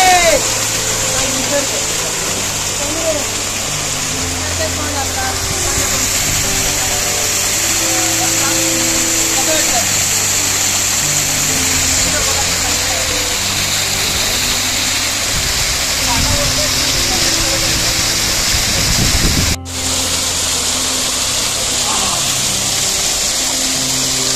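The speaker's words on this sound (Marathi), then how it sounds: "आणि काय धबधबा आहे." Waterfall on Karanjade hill in the Sahyadri range, a steady broadband rush of falling water that stays loud throughout while several people talk and exclaim nearby.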